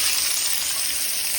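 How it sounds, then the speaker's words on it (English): Onions sizzle in bacon grease in a pan, giving a steady, close hiss with no pauses. "I love that sound of sizzle."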